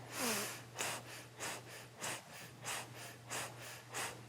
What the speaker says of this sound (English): here we're going to pick up a gentle breath of fire